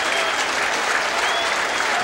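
A crowd of more than 12,000 applauds at the end of a 1989 Syracuse versus UMass college lacrosse game, a broad steady roar of clapping heard close and filling the whole moment.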